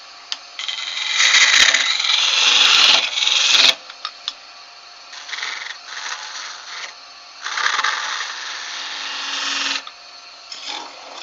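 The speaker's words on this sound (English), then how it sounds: "the rest of the tenon will be cut with my 10 mil spindle gouge" A 10 mm spindle gouge cuts a wooden tenon on a lathe in bursts of scraping, hissing shavings, each lasting a few seconds with short pauses between, close and fairly loud.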